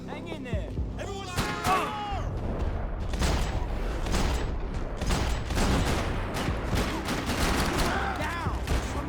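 Heavy gunfire from the video game Max Payne 3, with dense bursts of shots, automatic fire and impacts crashing continuously at close range amid shouted voices throughout.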